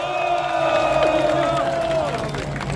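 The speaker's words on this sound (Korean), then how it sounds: "다시 한번 뜨거운 박수 보내주십시오" A large crowd at a candlelight protest rally claps and cheers, a steady dense wash of applause and shouting heard at a distance, with amplified talk over it.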